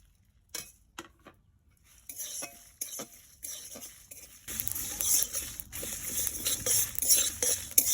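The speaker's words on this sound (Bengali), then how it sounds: "এবার আমি সবগুলো মশলা একসাথে ভেজে নেব।" Dry red chillies and whole spices are stirred and fried in a metal pan, a spoon scraping and clinking in scattered strokes before a steady sizzling hiss rises under continued stirring.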